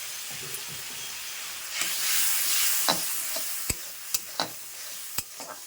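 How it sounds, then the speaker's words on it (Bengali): Spices with salt and turmeric frying in oil are stirred, giving a steady soft sizzle and hiss that swells midway, with several sharp scraping taps of the utensil against the pan toward the end. "যতক্ষণ না তেল মানে মশলা থেকে তেল ছাড়ছে ততক্ষণ কিন্তু আমি নাড়িয়ে নেব"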